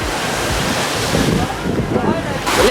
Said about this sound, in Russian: Вот волна идет.